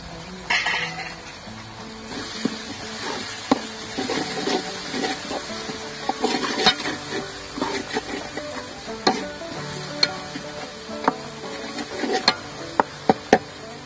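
Quail frying in a pan with salt, turmeric, coriander powder and garam masala, a steady close sizzle broken by repeated scraping clicks of stirring, with no talk.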